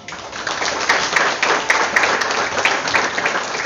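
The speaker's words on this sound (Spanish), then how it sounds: "a quien les pido le brinden un fuerte aplauso." Steady applause from an audience at a school closing ceremony in San Pedro Mixtepec, dense and fairly loud, with many hands clapping continuously and no break across the whole stretch.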